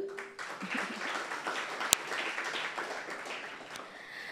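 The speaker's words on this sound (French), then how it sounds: "je vous demande de l'applaudir" Audience applause at a civic-engagement talk on women's involvement, a steady wash of many hands clapping that fills the room for several seconds without a break.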